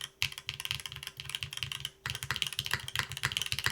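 Rapid clacky keystrokes on a Caerdroia mechanical keyboard, with deeper thocking spacebar presses mixed in, steady and close, pausing briefly halfway through.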